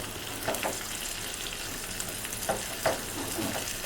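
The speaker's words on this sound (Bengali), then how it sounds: "এটা এখন শুধু নাড়াচাড়া করা ছাড়া আর কোনো কাজ নেই।" Goat liver sizzles in a pan while a spatula scrapes and stirs it, with a few distinct scraping strokes over the continuous frying hiss.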